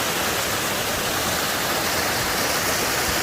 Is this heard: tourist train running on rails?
no